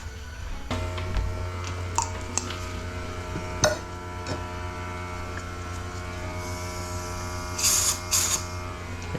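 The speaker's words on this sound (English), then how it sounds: "Let me go turn on the air compressor quick so I can get those pistons out." In a garage, an air compressor starts up after a moment and runs with a steady mechanical hum and drone while airing up, with a few clicks and clanks and a brief hiss near the end.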